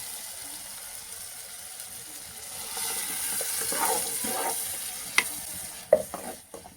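Ground paste goes into a pan for a mango sardine curry, and the sizzling swells as it hits the hot pan, followed by a couple of sharp utensil clinks.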